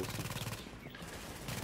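Rapid automatic fire from a deployed turret machine gun in The Division's Dark Zone multiplayer, a dense rattling burst that fills the first half then continues more raggedly amid other game noise.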